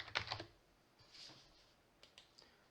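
A name is typed on a computer keyboard into a surgical assistant app login, a faint cluster of quick key clicks followed by a few sparse, soft taps in a quiet room.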